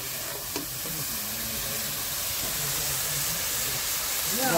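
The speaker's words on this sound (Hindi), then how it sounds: "अच्छे से मसाले का फ्राई चल रहा है" Masala spice paste with tomato fries in a pan for a dhaba-style fish curry, a steady, fairly loud sizzling hiss that swells slightly toward the end.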